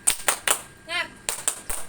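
A group performs a rhythmic spirit clap at a scout gathering, sharp claps falling in a quick pattern of three, a short pause, then three more, with voices chanting briefly in the gap.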